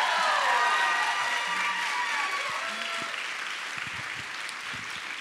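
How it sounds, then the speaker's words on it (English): An audience gives a round of applause for Linda Sarsour after her speech at a talk event, a full crowd clapping that tapers gradually, with a few cheers and murmurs mixed in. "let's give her another round of applause and thank you for being here."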